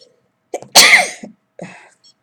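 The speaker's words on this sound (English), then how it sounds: "And I'm feeling to sneeze." A single sharp human sneeze, close and loud, preceded by a short inhaled catch and followed by a faint breathy exhale, otherwise quiet.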